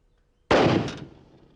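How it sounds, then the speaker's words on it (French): A Sauer 202 bolt-action rifle with a Swarovski scope fires one 300 Winchester Magnum round, a sharp, loud, close crack that rolls off into a fading echo. "on va voir avec le 300 Winchester Magnum, toujours avec le même genre la même marque de munitions"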